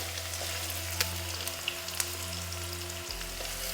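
Onion, garlic and hing frying in hot oil for an okra curry, giving a steady close sizzle with a few sharp pops and a low hum underneath, and no talking.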